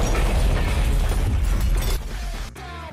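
A loud explosion in a Vietnam flashback scene, a heavy deep roar with rumbling debris that fades away over a few seconds.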